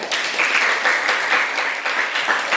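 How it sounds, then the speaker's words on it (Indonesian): Steady applause from a group at a school class presentation, a continuous even clatter of many hands throughout. "berikan tepuk tangan"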